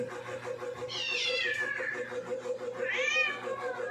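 A cat lets out two drawn-out, rising and falling meows close by, over a low steady hum.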